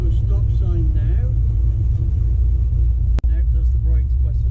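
A car fitted with a Holley carburetor rumbles steadily in high gear as it rolls up to a stop, with the engine drone continuous and low beneath a voice, and one sharp click partway through.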